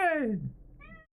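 A pet cat lets out one quiet, drawn-out meow that slides downward, followed by a shorter, softer chirp-like meow.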